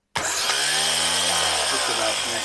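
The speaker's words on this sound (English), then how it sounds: "I just want to try out the starter." A Jaguar V12 starter motor spins on the bench. It kicks in abruptly and holds a loud, steady whirring buzz with a harsh mechanical whine for the rest of the moment.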